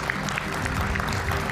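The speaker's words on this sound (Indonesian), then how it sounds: "Kita berikan tepuk tangan Bung Fredrik Yunadi" A brief burst of studio audience applause on an Indonesian television talk show, steady and moderately loud over a low hum, lasting under two seconds.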